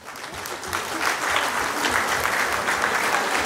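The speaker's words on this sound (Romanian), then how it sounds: "Și vă rog frumos să vă ridicați și să vă aplaudăm," Audience in a hall at a national folk costume day celebration bursts into applause, a dense, steady clapping that swells and holds throughout, with no speech over it.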